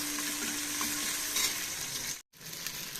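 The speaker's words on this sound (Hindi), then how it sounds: "फ्राई करना है जब तक ये प्याज का टेस्ट बाहर निकल के ना आ जाए।" Onions, along with cauliflower, potatoes and green chillies, fry in a pan with a steady, dense hiss of sizzling, quiet and close, broken by a brief cut near the end.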